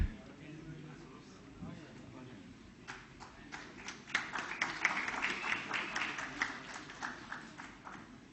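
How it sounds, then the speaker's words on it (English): Audience applause for award winners at a safety convention ceremony, a swelling patter of many hands clapping in a hall after an announcer's call, building over several seconds and staying moderately loud. "Ladies and gentlemen, a round of applause for Utkal Alumina International Limited."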